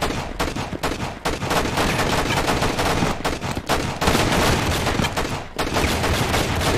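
Gunfire in the video game Enter the Matrix from a 2003 Shiny Entertainment release, a dense, loud barrage of rapid shots and impacts that keeps going with short breaks.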